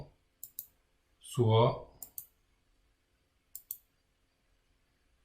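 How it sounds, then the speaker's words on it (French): Computer mouse double-clicks on a desktop, three crisp paired clicks spread out over a few seconds in a quiet room, with one brief spoken word between the first and second pairs. "un double-clic et je peux ouvrir aussi mon application"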